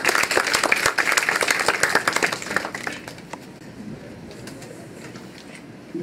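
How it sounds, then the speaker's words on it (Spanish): Audience applause welcoming Dr. María Heller at a conference, dense and loud for about three seconds before thinning into scattered claps and a quiet room. "Un aplauso de bienvenida para la doctora María Heller."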